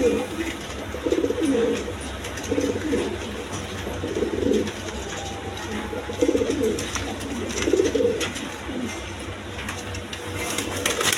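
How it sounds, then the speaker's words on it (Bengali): Rajgolla pigeons coo in soft, low, repeated bursts, several rounds close by, against a steady background of other birds and faint murmuring. "এখানে একটা রাজগোল্লা কবুতর আছে, দেখেন কোয়ালিটি সম্পন্ন কবুতর"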